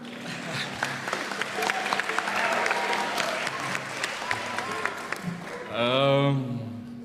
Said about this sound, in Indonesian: kalau nak tepuk dulu